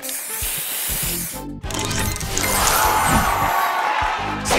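A loud hissing spray burst from the booster effect in the Match Masters puzzle game, a broad whooshing blast that swells and sustains for several seconds over busy game sound.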